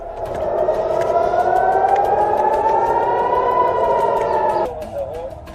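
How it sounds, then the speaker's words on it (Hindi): A loud wailing air raid siren in Israel, holding a rising and slowly falling tone, then cutting off abruptly near the end. "जेरूसलम समेत पूरे इजराइल में हवाई हमलों से सायरन बज उठे।"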